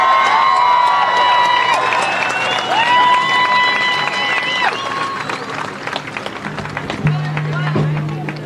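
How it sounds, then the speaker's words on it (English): Rally crowd at the US Capitol clapping and cheering loudly, with tonal shouts and whistles over steady applause that thins slightly toward the end, while speech is heard underneath. "So join me, please, in giving a warm round of applause to Congress people Rashida Tlaib and Cori Bu"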